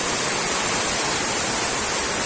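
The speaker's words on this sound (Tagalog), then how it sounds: "Ito, tuloy-tuloy ang ulan." Heavy, unbroken rain pours down outside a house during Typhoon Carina amid flooding, a dense steady roar of broadband hiss with no pauses, loud and enveloping, no voices.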